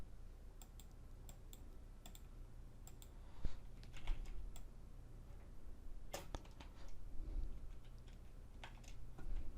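Computer keyboard keys pressed in irregular clusters of sharp clicks during Photoshop editing, near and fairly quiet, with a few louder bursts and no talk.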